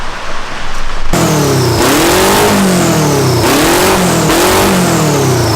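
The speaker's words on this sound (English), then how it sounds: "Do you hear those turbos? Yeah, dude, you heard the spooling though this time." A Mazda engine fitted with four turbos revs hard in repeated surges at about 5 psi of boost, each rise carrying a whistling turbo spool, loud and close with no talking.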